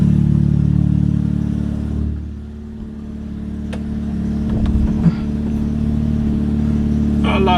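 A Mazda RX7 engine idles steadily nearby with its cooling fans running, a continuous low drone and whir with a brief dip and a few faint clicks, no talking.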